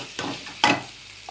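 Vegetables for a paneer gravy frying in a pan: a soft sizzle broken by two brief scraping stirs, the second louder.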